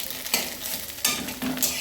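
Egg and onion frying together in a pan for Maggi noodles, a continuous sizzle broken by several scraping stirs of a spoon at a steady, close range, with no one talking.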